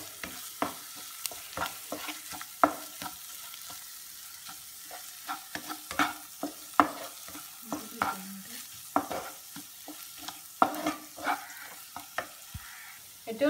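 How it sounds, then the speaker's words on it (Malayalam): Chili powder stirs into a frying pan with a low, steady sizzle, punctuated by frequent sharp clicks and scrapes of a spoon against the pan. "ഇതിലേക്ക് മുളക് പൊടി ആഡ് ചെയ്യാം ഇത് നന്നായിട്ടൊന്ന് മിക്സ് ചെയ്യാം"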